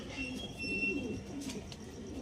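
Gentle, low coos come from Andhra star kalka pigeons nearby, a steady murmur of calls over a light background hiss without speech.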